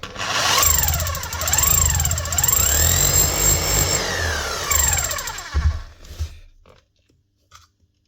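A Bosch hammer drill under repair runs loudly and steadily up close for several seconds, its motor pitch swooping up and down, then winds down and stops into near silence.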